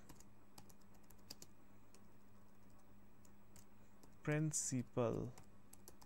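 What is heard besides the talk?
typing on a computer keyboard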